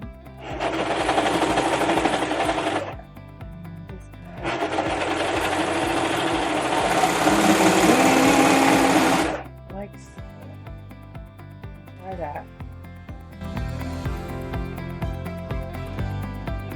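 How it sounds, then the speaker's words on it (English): A sewing machine runs extra reinforcing stitches along the lining seams of a dress being altered, in two long, loud, steady bursts with a pause between, then quieter handling noise. "I just ran some extra stitching because I saw that like the serging wasn't perfect."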